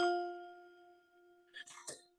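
Synthesized bells in a dancehall music production session ring with a bright, sustained tone that fades slowly, followed by a few faint short clicks at the end.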